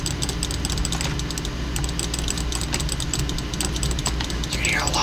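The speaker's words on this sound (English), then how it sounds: "You're gonna hear a lot of clicking." A computer keyboard and mouse click rapidly and continuously, close up, during a game of Stick Fight. The clicks form a dense, steady clatter with no talking.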